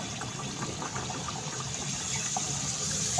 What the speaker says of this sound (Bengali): তো এবার আমি বেলে রাখা কচুরিটা ছেড়ে দেবো তেলের মধ্যে। দিতেই একদম টকবক টকবক করে ফুটতে শুরু করবে।